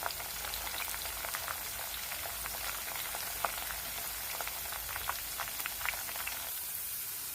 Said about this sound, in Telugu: సో మంచిగా ఫ్రై అవుతున్నాయి.